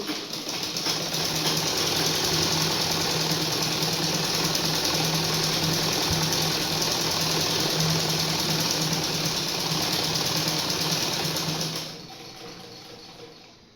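Sewing machine stitching a full seam, a loud, steady rapid whirring hum that runs continuously for about twelve seconds before stopping.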